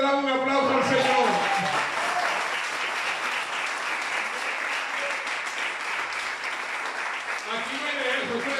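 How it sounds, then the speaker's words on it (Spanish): Church congregation applauding, a sustained wave of clapping that swells at once and carries on for several seconds, with a few voices audible at the start and end. "¿Cuánto le damos un aplauso al Señor?"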